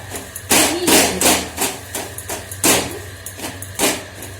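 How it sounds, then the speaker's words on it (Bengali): Whole boiled potatoes for chokha are mashed in a pan with a utensil, making sharp, loud knocking thuds in an uneven rhythm of about ten hits. "চাবুক দিয়ে একটুখানি ম্যাশ করে নেব।"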